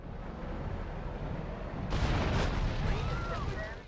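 A Rhino tank firing in Grand Theft Auto Vice City: a deep rumbling engine drone broken by a loud booming cannon blast about halfway through, followed by a rolling explosive roar, with a voice talking over it.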